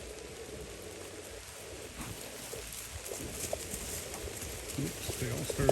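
Rain falls on a cattle pasture as a steady, faint hiss, with scattered patters and soft thuds.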